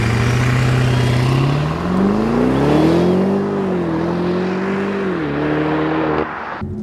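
A 2015 BMW Alpina B6 Gran Coupe with all-wheel drive accelerates hard on a racetrack at altitude. The engine tone climbs loudly and steadily with one brief dip, then cuts off at the end.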